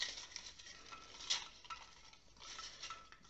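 Lots being stirred by hand in a bowl or pot for a mock Champions League round-of-16 draw, a soft scraping, rattling patter with a few brighter clinks, close and fairly quiet, with no voices.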